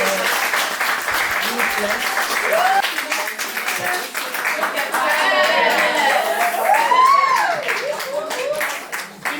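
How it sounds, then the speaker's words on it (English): A woman clapping for herself amid a crowd at a women's empowerment event, applause rolling steadily for several seconds while a voice talks over it. "She clapped herself."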